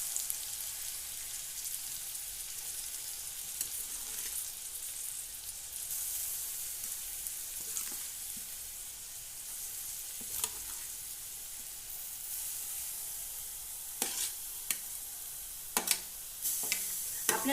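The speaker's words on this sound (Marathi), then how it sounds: "आता आपण ह्या स्टेजला आपण हे सगळं टाकून घेऊया, गाजरचे काप वगैरे छोटे छोटे।" Carrot pieces sizzling steadily in a pan for carrot halwa, a continuous soft frying hiss with occasional light stirring clicks near the end, no voices.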